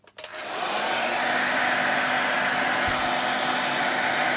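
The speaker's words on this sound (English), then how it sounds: "start applying a heat source when I figure out how to use my wife's hairdryer" A hair dryer switches on and blows hot air in a steady, loud, unbroken whoosh, close by and alone, used as a heat source while replacing a Dragon Touch Max 10 touch screen digitizer.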